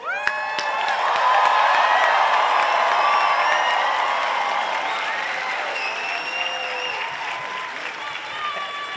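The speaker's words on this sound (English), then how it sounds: "Friends and family, one huge round of applause for our graduates." Friends and family in a large audience applaud graduates at a UC Santa Cruz Stevenson College commencement ceremony. The sustained, dense clapping is mixed with scattered cheers and whoops and stays loud for the full stretch, easing only slightly toward the end.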